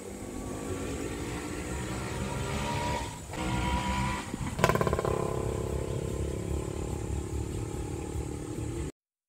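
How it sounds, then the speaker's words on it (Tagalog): Automatic 2011 Honda City engine idling smoothly in a steady, even hum with a faint high whine, a brief dip and a small clatter midway, then cutting off abruptly near the end; no voices. "Mga andar siya, oh. Napakapino ng andar niya."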